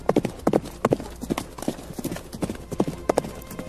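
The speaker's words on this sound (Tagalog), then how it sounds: "narinig ni Badong ang mga yabag ng paa ng kabayo" Horse hooves clip-clopping in a quick, steady rhythm, close and distinct, with a faint hint of a whinny in the background.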